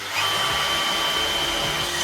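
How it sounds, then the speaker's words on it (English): A power drill whirs steadily at close range, its motor pitch dipping and recovering as a small grinding wheel deburrs holes in metal. "we like these little grindy wheels on the drill, each of those holes"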